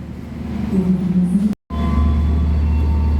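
A feeder train for the Jakarta-Bandung high-speed rail standing at track 7 of Bandung station, a loud low rumble and hum of the rolling stock close by, steady apart from a very brief dropout, with faint tonal whines.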